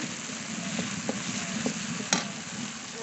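Spice masala sizzling in oil in a pan, with a steady fry hiss and a few light spoon taps and scrapes as it is stirred, ending in one louder scrape.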